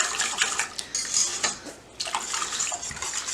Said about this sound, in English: So just give it a really good mix.